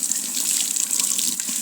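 Hot water runs steadily from a kitchen tap into a sink, a continuous close splashing hiss with no pauses or voices.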